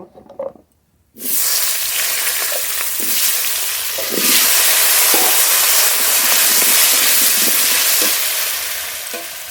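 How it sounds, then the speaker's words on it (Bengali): Potato pieces hit hot oil already used for frying fish, bursting into a loud, steady sizzle after a quiet start. The crackle swells and continues without a break, close by. "মাছ ভাজার তেলে আলু ভেজে নেব।"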